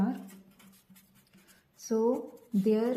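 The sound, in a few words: writing on a board during a maths lecture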